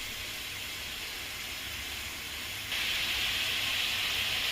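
Masala spices fry in oil in a pan over a medium gas flame, a steady close sizzling hiss that grows louder and brighter partway through.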